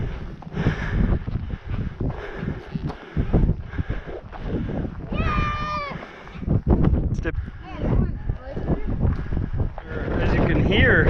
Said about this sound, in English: As you can hear, the wind is pretty strong up here